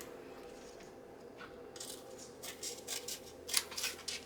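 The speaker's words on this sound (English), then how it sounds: "I'm taking my smaller scissors and I'm just going to snip it, open it up" Small scissors snip through a paper envelope in a few quick, close cuts that grow louder toward the end, each a short crisp clip against a quiet room.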